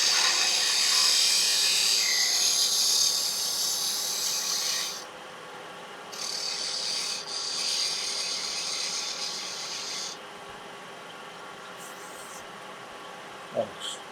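A wood lathe turns an Easter egg shape while a smaller gouge cuts, making a scraping, hissing rasp in several sustained passes with short pauses between them and a sharp tap near the end.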